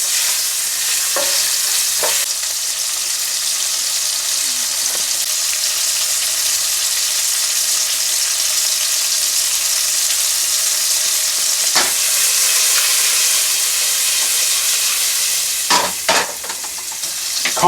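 Seasoned food, dusted with pepper and garlic powder, sizzles steadily in a frying pan for a steak dinner while a utensil stirs it now and then, with a few sharper scrapes near the end.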